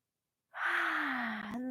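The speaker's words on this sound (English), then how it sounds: "let's actually take a nice big yawn" A deep yawn drawn in through the mouth during a yoga session, one long breathy inhale with a low voiced hum, close and fairly loud.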